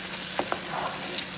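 Wheat halwa being stirred in a pan with ghee and fried cashews, Tirunelveli style: a steady low sizzle with two soft scraping strokes of the spoon, close and quiet, no voices.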